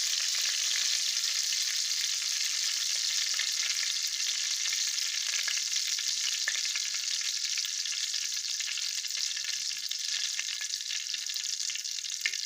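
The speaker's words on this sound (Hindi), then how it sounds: "एक छोटा सा पापड़ का टुकड़ा ऐड करेंगे उसके अंदर।" A small piece of papad fries in hot ghee, giving off a steady, bright sizzle that stays even from start to finish with no voices.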